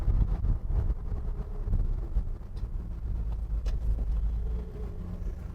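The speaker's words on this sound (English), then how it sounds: "running down the road about 45 mile an hour here, going straight as an arrow, 1-ton 4-wheel drive" A 1987 Chevrolet Silverado one-ton 4x4 pickup cruising at about 45 mph on a straight road, steady low engine and road rumble with wind buffeting throughout, heard from inside the cab.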